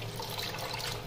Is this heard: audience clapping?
no